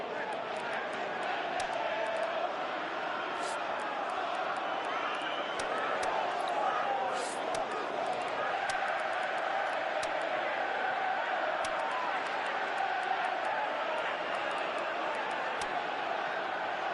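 A stadium crowd in the football video game PES 2018 roars in a steady, unbroken wash for the whole stretch, while a commentator talks over it.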